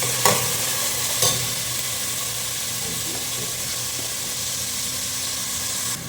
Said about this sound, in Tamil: ஏலக்காய்லாம் போட்டுட்டு நெய் ஊற்றிக்கிறோம்